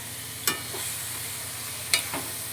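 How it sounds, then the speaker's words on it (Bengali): Chopped onion fries with chicken in a pan for Bengali chicken kosha: a steady close sizzle with two sharp spatula scrapes against the pan, and no voices. "একবারে পেঁয়াজ কুচি এর সঙ্গে দিয়ে একবারে কষিয়ে নিচ্ছি"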